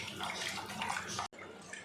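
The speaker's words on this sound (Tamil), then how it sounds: "கொஞ்சமாக தண்ணி சேர்த்துக்கிறேன்" Water pours steadily into a pot of crab soup, a continuous close splashing gush that cuts off abruptly, then quieter bubbling and sloshing.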